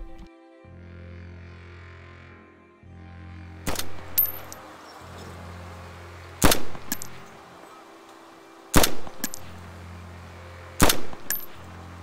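Four sharp gunshots crack out one at a time, evenly spaced across a quiet stretch, from a rifle hipfired in DayZ Standalone, each with a short ringing tail over a low background hum.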